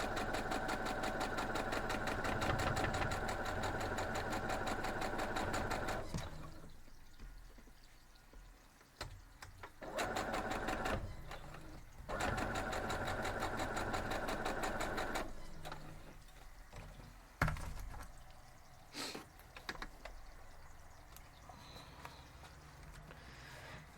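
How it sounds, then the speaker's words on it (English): A sewing machine stitches down pieces of a star quilt block in bursts of fast, even mechanical whirring, starting and stopping several times with brief quiet gaps between runs, close and fairly loud, with no talking. "we're just going to sew down this and then the other one"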